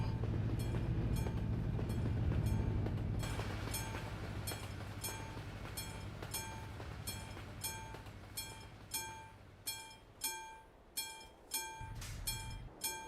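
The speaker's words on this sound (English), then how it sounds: "Come on, train. Don't be too long now." A train passes a level crossing in Euro Truck Simulator 2 near Murmansk, a heavy low rumble fading into sharp, evenly spaced clickety-clack wheel beats on the rails toward the end; no speech.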